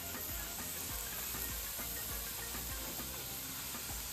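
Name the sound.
aloo paratha frying in oil on a pan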